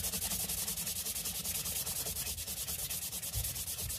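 A sanding stick is worked over the cut edges of a Halloween build piece in quick, regular back-and-forth strokes, a close, rhythmic scratchy rasp with no talking.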